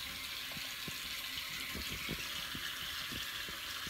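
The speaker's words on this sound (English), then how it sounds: "Water is running, y'all." Water runs steadily from a tap into an empty bathtub, a continuous broadband rush with faint clinks and rattles near the faucet, heard alone.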